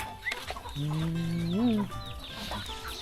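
Chickens cluck close by at a rural village home, with a drawn-out rising call standing out among scattered softer clucks and background birds.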